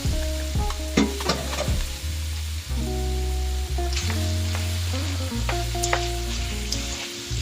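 Sausage and ground beef brown in a pan for Louisiana Cajun dirty rice, a steady close sizzle broken by repeated scraping and crumbling strokes of a utensil, with no talk.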